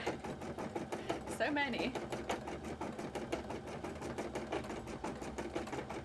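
An embroidery machine stitching sequins runs with a quiet, steady rapid rhythmic clatter, with a voice speaking over it.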